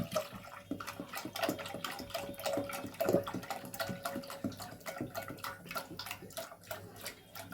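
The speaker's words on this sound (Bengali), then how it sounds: "এই দুধটা এই পাত্রটার মধ্যে ঢেলে দিচ্ছি" A litre of milk pours from a container into a pot, a continuous close splashing stream with a faint steady tone underneath, running for several seconds without speech.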